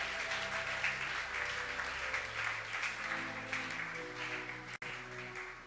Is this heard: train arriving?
no